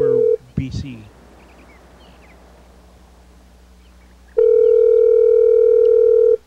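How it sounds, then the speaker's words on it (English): A call rings through to a McDonald's: a short tone burst, a brief clatter, a quiet line hiss, then a long steady ringing tone of about two seconds. "Answer the phone, McDonald's."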